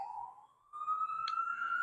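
A police car siren wails as it passes at a distance, a faint, steady rising tone heard through an outdoor rooftop garden with no talking.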